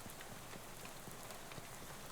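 Steady rainfall in the adventure game Shadows Over Loathing, a faint, even patter of drops on a surface that keeps going without a break and with no voices.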